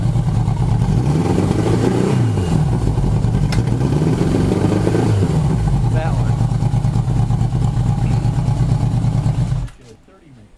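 A 1980 Yamaha XS1100 Special motorcycle engine runs loud and close, with a steady throbbing idle and a few rises in revs before it cuts out near the end.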